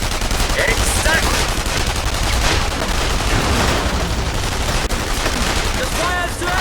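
Heavy gunfire in The Saboteur, a 2009 PC action game: dense, continuous bursts of automatic fire and shots filling the scene, loud and close throughout.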